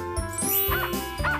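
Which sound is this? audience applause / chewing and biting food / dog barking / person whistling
dog barking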